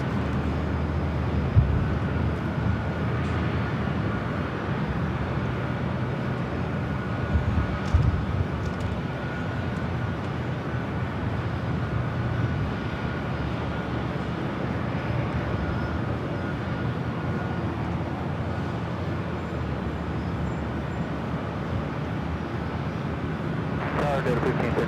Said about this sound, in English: It's Asiana, flight 204, coming in from Seoul on the 6-year-old A350-900.